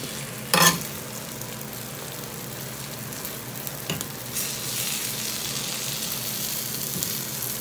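Tuna sisig being reheated in a pan, a steady close sizzle and fry throughout, with a sharp scrape of stirring near the start and another brief one midway.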